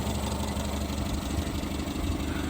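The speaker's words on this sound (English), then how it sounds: "starting straight up and idling at a normal level" A steady, even engine idle from a Renault 5 TC rumbles low and constant throughout, with no revving or other sounds.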